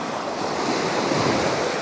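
Ocean waves wash in and slide back out on a rainy shore, a dense, steady roar of surf with wind noise across the microphone and no voices.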